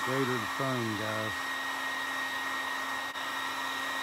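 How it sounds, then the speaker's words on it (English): Heat gun blowing hot air while painting a foam Freewing 90mm F-16 RC jet: a steady, loud whooshing hiss with a constant whine, running unbroken throughout, with a few short tonal bursts at the start. "This is a heat gun."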